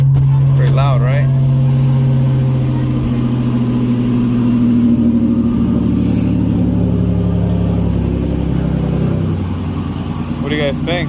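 Buick Grand National engine running loudly at a steady, throaty idle close by, a deep continuous rumble with slight variations, while someone talks briefly over it.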